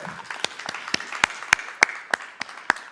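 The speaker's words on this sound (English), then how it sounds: "can we give another round of applause?" Scattered audience applause at a sisterhood celebration event in Baltimore and DC: sharp individual claps in an uneven rhythm, moderately loud, with no talking over them.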